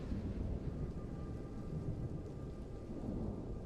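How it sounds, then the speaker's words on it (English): Thunderstorm ambience inside a video game, with dense steady rain and low rumbling thunder rolling continuously under a faint tonal hum, no voices. "Thunderstorm."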